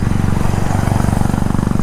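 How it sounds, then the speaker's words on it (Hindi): A Royal Enfield Interceptor 650 motorcycle exhaust thumps in a fast, even pulsing beat, loud and close throughout as the bike rides along on a morning road trip, with no speech. "एग्जॉस्ट का साउंड भी प्यारा आ रहा है काफ़ी"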